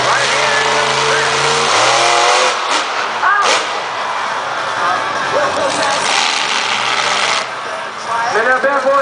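A supercharged 140-cubic-inch monster truck engine screams through loud revs at a freestyle event, pitch climbing and dropping in surges with crowd noise and talk underneath.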